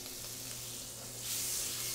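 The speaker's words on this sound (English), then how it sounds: "Throw it in my pan, so I've got that nice sizzle that started immediately." Butter and oil hiss and crackle in a hot frying pan, a steady, close sizzle that swells louder toward the end, with no one speaking.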